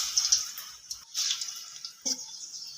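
Chicken pakoras drop into hot oil in a kadai and fry, giving a close, crackly hiss in short uneven bursts with brief quiet gaps between additions.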